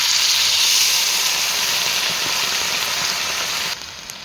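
A steady hiss of sizzling as a little water is added to frying vegetables with eggplant and potato in a hot pan, loud at first and easing off slightly before dropping away at the end.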